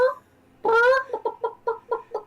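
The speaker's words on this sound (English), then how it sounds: "a live chicken comes out of it" A chicken, heard during a Dungeons & Dragons tabletop session, gives a drawn-out squawk followed by a rapid series of short clucks, close and fairly loud with no talk over it.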